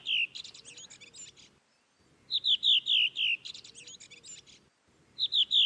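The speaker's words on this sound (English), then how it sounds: "It was a singing male redwing." A male redwing sings a short, descending run of clear, high whistled notes, repeated three times with brief pauses between phrases over a soft outdoor background.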